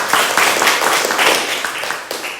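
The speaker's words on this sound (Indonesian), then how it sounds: "Beri aplaus untuk kelompok 1." A classroom group claps and applauds a student group after its presentation: dense, steady, close clapping that lasts the whole stretch, with no talk over it.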